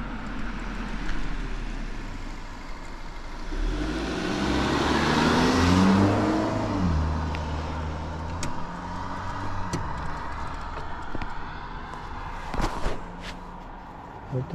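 A car approaches and passes on a road with no bike lane, swelling to a close whoosh and engine hum around midway before fading, followed by a few sharp clicks.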